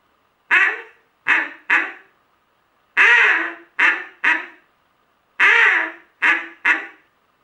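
A duck call sounds in three bursts of quacks, each a loud quack followed by two shorter ones, with silence between groups.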